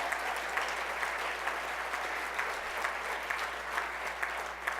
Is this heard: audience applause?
yes